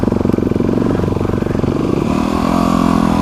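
A motorcycle engine on an adventure ride idles with a fast, throbbing pulse, then revs higher as the bike pulls away, loud and close throughout.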